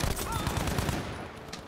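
Weapon gunfire in the video game Battlefield V, rapid automatic bursts rattling loudly and continuously over a dense, busy game soundscape.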